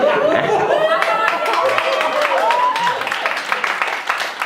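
Comedy club audience clapping steadily over a crowd murmur, with scattered chuckles and laughter, and some talk mixed in.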